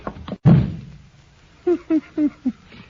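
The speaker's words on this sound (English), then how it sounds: "You shouldn't have slammed the door, Crane." A door slams hard once in a radio drama, a loud close thud that decays, followed by a few short knocking taps.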